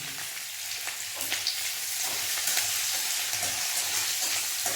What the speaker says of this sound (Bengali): আদা নেব, আদাটা ফ্রাই করে নেব প্রথমে। রিফাইন তেল দিয়েছি আমি